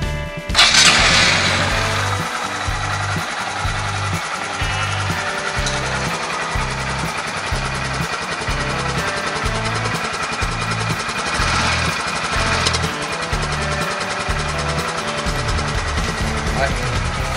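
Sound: Honda Grom motorcycle engine idling with stock exhaust

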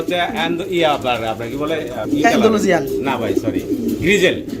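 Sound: Modena pigeons cooing at a pigeon farm

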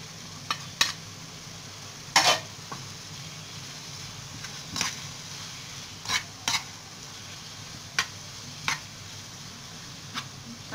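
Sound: stirring spices into frying spinach

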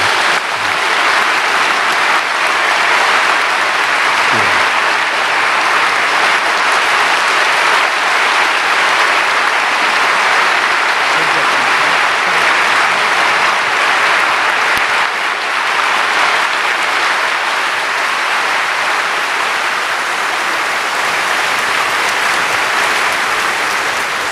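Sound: audience applause welcoming a performer

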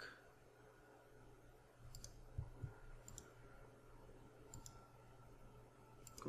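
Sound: computer mouse clicking

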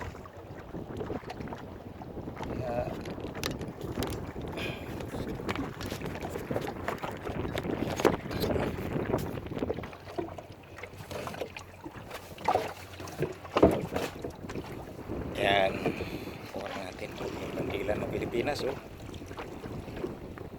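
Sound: boat engine running

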